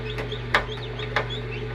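Newly hatched chicks in an incubator give thin, high peeping chirps in a quick repeating pattern, with two sharper peeps standing out over a steady low machine hum.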